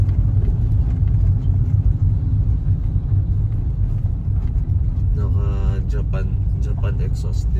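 A lowered Honda Civic with an open exhaust idles with a deep, loud, continuous rumble. A voice talks briefly over the engine near the end.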